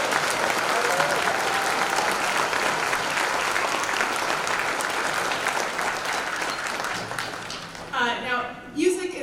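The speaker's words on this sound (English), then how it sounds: "Can we hear a huge round of applause for Federal Way School District for supporting this?" Audience applause at an all-district school band event, a sustained dense clapping from a large crowd that fades near the end as a voice begins speaking.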